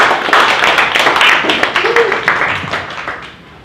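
An audience at a sales meeting claps for an appraiser coming up to the front, a close, busy patter of many hands that fades over a few seconds, while people talk underneath.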